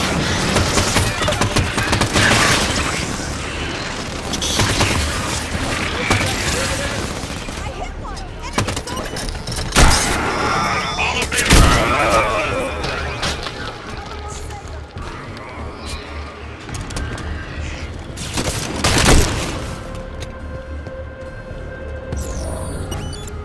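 Gunfire crackles through a firefight in the Halo 5 campaign's Evacuation mission, with bursts of shots and sharp impacts scattered over a continuous game soundscape, a few louder blasts standing out.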